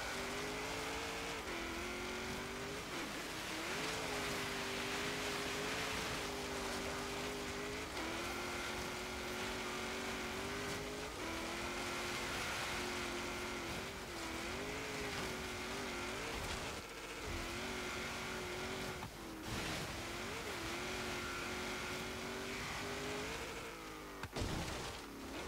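A 1995 Nissan NISMO GT-R LM with an upgraded engine climbs a snowy mountain road in Forza Horizon 3. The engine revs loud and continuously, rising and dipping through repeated gear changes with no talking.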